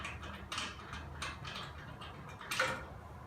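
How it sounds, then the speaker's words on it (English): Lug nuts being loosened and removed from a lifted car's wheel, a few scraping, ratcheting metal bursts at a moderate distance over a low steady background rumble. "I'm gonna go ahead and take my bolts off and just take these lug nuts off"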